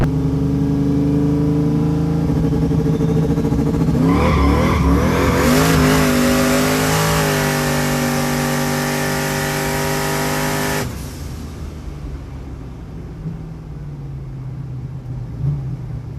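Turbocharged car on radial tires at a track outing, its engine roaring loudly and steadily at high revs, then pitching through shifts before cutting to a lower, steadier drone as it backs off; no talk.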